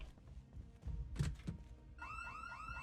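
A car alarm starts up in a video game, a rapidly repeating electronic warble sounding steadily near and loud after a few dull thunks and faint shuffling.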